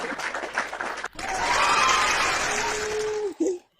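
Applause from an audience at a Congolese gathering, a dense steady clapping that swells after a brief pause near the start, mixed with whistling tones, then cuts off abruptly.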